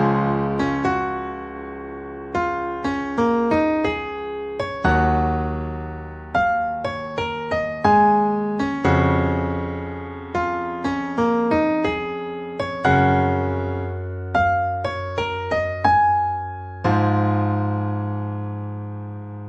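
A solo piano plays the Star Trek Picard theme, with clear melodic notes over sustained low chords and a slowly climbing line that builds in phrases, with no talking over it.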